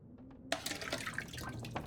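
Water being collected in The Long Dark survival game: a short quiet lead-in, then a steady trickle of dripping, splashing liquid with small bright plinks over about a second and a half.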